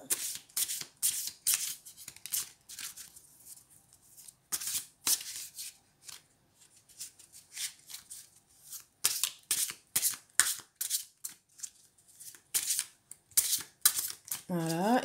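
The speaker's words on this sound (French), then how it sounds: "Donc je vais mélanger les cartes." Tarot cards shuffled by hand in a run of quick, crisp riffling bursts with short pauses between them, close and fairly loud, and a brief voice near the end.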